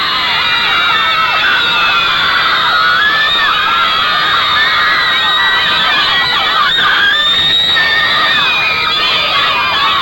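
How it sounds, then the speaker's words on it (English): A huge crowd of Beatles fans in Sydney screams and cheers in a continuous loud, shrill roar that never lets up, with piercing high-pitched shrieks standing out, and horns honking somewhere in the mix. "huge crowds have gathered at airports and in the streets to see them"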